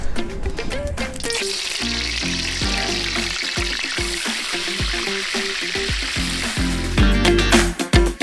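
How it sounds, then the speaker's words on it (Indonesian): Tempeh frying in coconut oil, a steady sizzle and crackle throughout, overlaid by rhythmic tonal thumps of background music, with a louder burst near the end. "goreng tempe pakai minyak kelapa"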